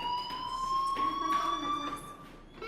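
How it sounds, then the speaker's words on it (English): A school fire alarm from the video game Life is Strange sounds as a steady, piercing electronic wail, continuous and fairly faint, as if heard from inside a room down the hall. "Hey, do you hear that fire alarm?"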